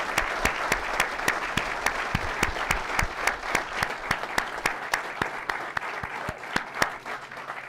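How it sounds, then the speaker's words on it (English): An audience applauds at the Takoma Park Police Department swear-in ceremony, with sharp, evenly spaced claps from a modest crowd ringing out steadily in a reverberant room for several seconds. "So I can just give one last round of applause for both Deputy Chief Philippos and"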